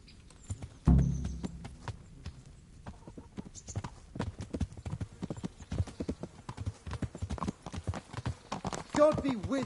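Horses' hooves clip-clop in the medieval role-playing video game Kingdom Come, a quick rhythmic run of close hoof taps after an opening thud, with a horse snort near the end.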